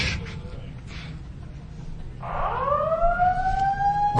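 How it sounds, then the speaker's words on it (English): An alarm siren set off by pressing an alarm button in a hacking conference presentation hall, rising in a loud wailing tone midway through after a quieter stretch of background noise. "This is not the light button, this is the alarm button."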